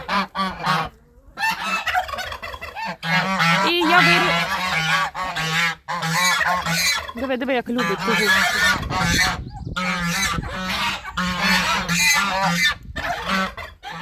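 Domestic geese honk repeatedly and loudly at close range inside an enclosure, their calls overlapping in busy bursts throughout while someone talks over them.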